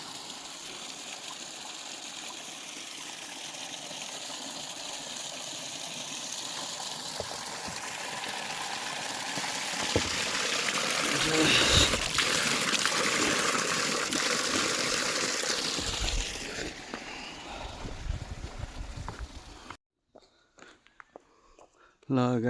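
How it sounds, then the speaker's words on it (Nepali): Spring water gushes steadily from stone at the Kedar Dhara source in Khaptad National Park, a continuous close rushing flow that grows louder midway, with faint voices over it, before cutting off near the end. "अलिक मूल फुटेर आएको थियो ढुङ्गाबाट।"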